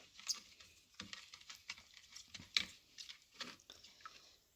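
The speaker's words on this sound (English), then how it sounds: "And you're just gonna stir it up." Kosher salt and water stirred in a deli container, giving soft, irregular sloshing and light tapping close up with no talking.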